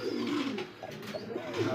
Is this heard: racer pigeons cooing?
yes